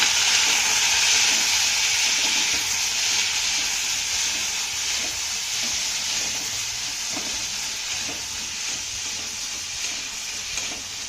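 Garlic cloves and ginger sautéing in a pan, a steady close hiss and sizzle that fades slightly over time, with faint scraping underneath and no talking.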